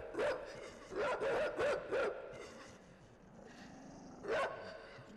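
Guard dogs in the video game Inside bark in a rapid series of sharp, harmonic barks, with another loud bark a few seconds later, the barks fairly close and loud over quiet game ambience, with no talk.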